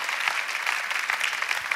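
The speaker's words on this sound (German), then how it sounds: "Lass uns das Gott einen Applaus geben." A church congregation claps together in a dense, steady patter of many hands, moderately distant and fairly quiet, lasting just under two seconds with no voices over it.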